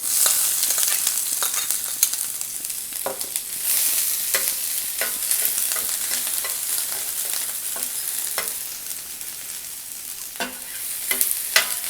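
Onions sautéing in already-heated oil as the base for a Malvani crab curry, a steady close sizzle with repeated sharp stir clicks and scrapes throughout, no voices.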